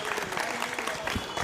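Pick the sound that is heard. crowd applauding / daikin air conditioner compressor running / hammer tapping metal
crowd applauding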